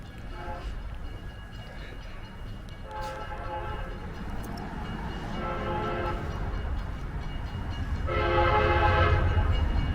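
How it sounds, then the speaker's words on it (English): A passing train sounds its horn in several long blasts over a low rumble that swells louder toward the end, with people talking nearby. "Hey, train. A train."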